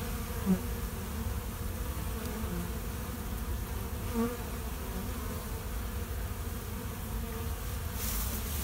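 Late-season honeybees flying and buzzing in cold weather, a steady dense hum of many wings that holds at an even level throughout, with a few closer bees droning past briefly.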